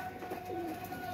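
Pigeons cooing, a soft low coo heard once near the middle over a steady background hum, fairly close but quiet.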